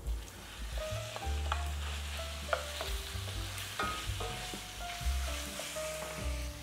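Ground pork frying with garlic and onion in a pan, a continuous sizzle under occasional stirring scrapes, with faint background music playing throughout.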